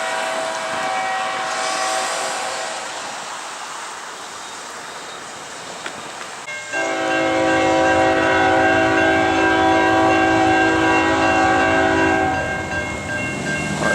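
A Norfolk Southern train passes through rural Retreat, Virginia, its rumble building before a loud, sustained multi-tone horn blares for several seconds over the roar of the rolling cars.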